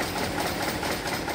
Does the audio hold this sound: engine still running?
yes